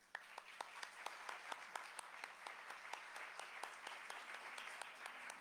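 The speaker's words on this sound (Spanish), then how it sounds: "para quien les pido un aplauso" Audience applause at a university conference panel, a thin, fairly quiet patter of scattered claps with distinct individual hand strikes, steady for several seconds.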